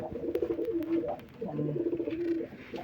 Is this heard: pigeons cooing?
yes